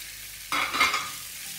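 Bacon and turkey in a frying pan give a sudden burst of sizzle that swells briefly then settles into a softer hiss, close by with no speech.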